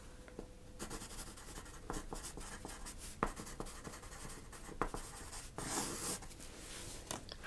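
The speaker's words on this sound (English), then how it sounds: "Just write this down." Pen writing on paper at a car dealership reception desk, a steady close scratching with short strokes and pauses, nearly continuous across the stretch with no talk.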